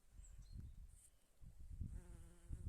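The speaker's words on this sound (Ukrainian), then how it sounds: "Якісь джмелики літають." Bumblebees fly among blooming flowers, giving a low, soft buzzing hum that rises and fades as they pass close by, quiet and alone.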